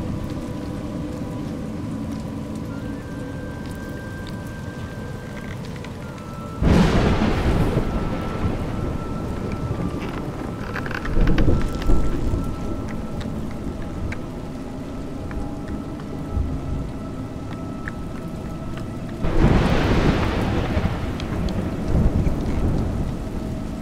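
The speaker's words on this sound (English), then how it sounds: "It's raining." Rain pours steadily in the video game A Juggler's Tale, broken by two loud, rolling thunderclaps, one near the start and another toward the end, with a lesser rumble between them and no voices.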